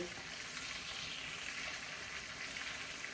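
Chicken pieces for chicken parmigiana sizzle in a pan over medium-low heat, a dense, even crackle of frying that holds steady throughout with no speech.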